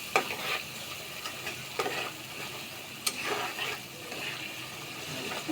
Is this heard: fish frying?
yes